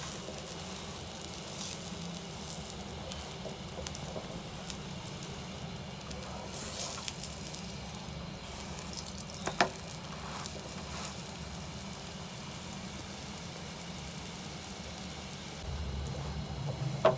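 A paratha brushed with ghee fries on a hot pan, giving a faint, steady crackling sizzle with a few small pops and no talking over it.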